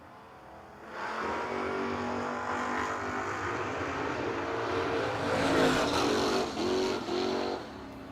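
No-box drag race cars, a Mustang and a Pontiac, launching down the strip at a shootout event: loud sustained roar of high-revving engines building and swelling over several seconds, heard from trackside without talk.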